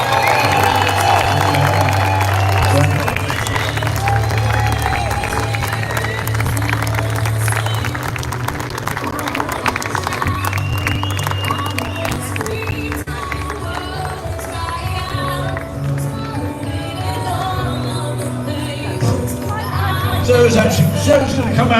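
Crowd applauding and cheering for Sarah Sands at a live London event, a steady dense roar of clapping and shouts throughout, with voices of the audience mixed in.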